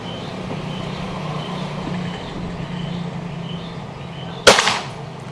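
A single air rifle shot at target practice, one sharp close crack with a brief ringing tail, standing out over a steady low background hum.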